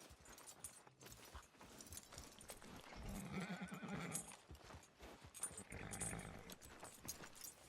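A horse in Red Dead Redemption 2 gives a couple of drawn-out neighs while its hooves clop along, all fairly quiet and with no talk.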